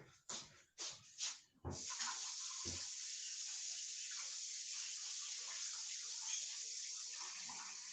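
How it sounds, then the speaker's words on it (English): A kitchen tap gushes steadily into a sink as someone washes their hands. A few short bursts of water come first, then an unbroken, hissing stream that runs quietly for several seconds with no talk. "Better go wash my hands"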